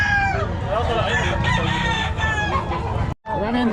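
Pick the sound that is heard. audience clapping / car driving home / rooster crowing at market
rooster crowing at market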